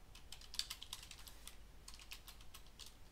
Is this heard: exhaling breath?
no